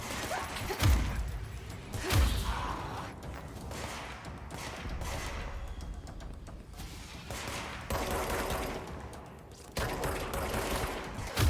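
Gunfire from a weapon in the video game Control: a few heavy, punchy shots among sustained bursts and rumbling noise, close and fairly loud.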